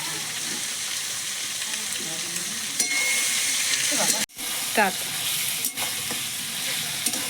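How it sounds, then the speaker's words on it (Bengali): Loud, continuous sizzling of chicken frying in a pan with chopped tomato, a steady hiss broken by a few clinks and scrapes of a utensil. "দিয়ে চিকেনটা একটু ভালো করে ভাজা ভাজা করে নেবো"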